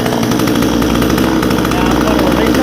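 A Vevor 62cc chainsaw engine runs steadily at a loud, constant drone, with its chain brake set and a dense buzzing rattle that holds without pause throughout.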